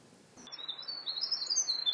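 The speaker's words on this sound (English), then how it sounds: "The tiny winter wren is no bigger than a thumb, but sings his own little bird symphony." A tiny winter wren sings a rapid, high-pitched stream of trills and twitters that starts after a brief pause and continues clearly and close, with no other sounds.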